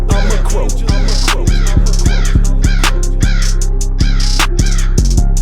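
A man imitates a crow with his voice, letting out a loud, close series of harsh caws at a steady rhythm, around eight calls in a row, over a constant low background hum.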